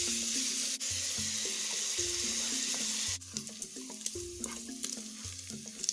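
Bacon sizzles steadily in a hot pan, a loud bright hiss running through the whole stretch, with a few clinks and stirring scrapes after a brief break, accompanied by quiet background music.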